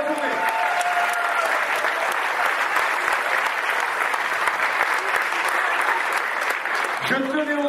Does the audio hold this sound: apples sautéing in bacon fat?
no